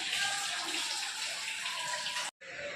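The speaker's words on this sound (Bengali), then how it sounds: "গরম গরম জল ছাড়া হচ্ছে দেখি এখন।" Hot water streams steadily from a bathroom tap in a guesthouse during a pilgrimage stay, a continuous hissing splash that briefly cuts out near the end before resuming.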